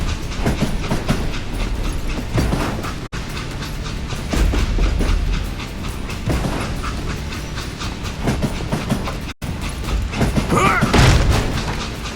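A train rumbles through the Call of Juarez: Gunslinger western shooter, a loud continuous rolling clatter of wheels and heavy cars with deep thuds and bangs layered over it, sustained across the whole stretch.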